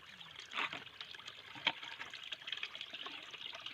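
Water trickling and flowing in a rural fishing spot, a faint soft gurgle close by with small splashy bursts scattered throughout.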